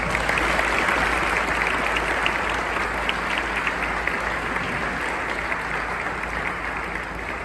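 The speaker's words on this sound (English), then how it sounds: "Let's give them a little round of applause." Sustained audience applause at a Honor Flight mission preparation event, dense steady clapping from a crowd continuing evenly throughout without talk.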